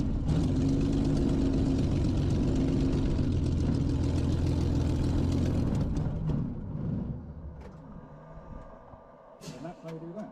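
The engine of a Mk IX Spitfire runs with a loud, steady, throbbing drone for about six seconds, then cuts back and fades to a low rumble amid rustling handling noise.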